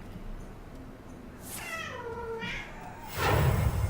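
A cat meows from the Hearthstone card game, two or three drawn-out, clear meows in a row, followed by a louder burst of game sound.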